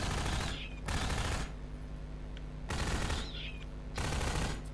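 SMG fire in Half-Life 2: Episode 1 comes in several rapid, loud automatic bursts separated by short pauses, close and dominant throughout.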